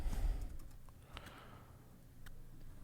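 Someone types on a computer keyboard in a quiet room, a few soft, scattered clicks at close range, faint against low background hum.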